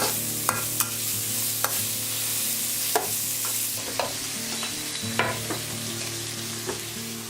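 A whole steak frying in a pan before being chopped for a cheesesteak sandwich: a steady, close sizzle broken by sharp clicks and scrapes of a utensil every second or so, with no talking.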